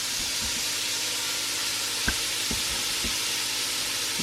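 Bacon frying in a pan with pork steak cooking, a steady broadband sizzle throughout with a few sharp pops and spatters standing out, close and even in level, no talking.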